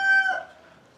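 A rooster crowing close by in a farm chicken coop, a brief bright call that fades quickly with faint clucking after.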